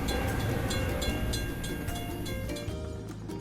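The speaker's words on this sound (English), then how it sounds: "We have to wait for the train to pass." A train rolls past a closed crossing gate in a 2D cartoon truck video game, a steady, fairly loud rumble of rail cars that holds throughout and tapers slightly toward the end.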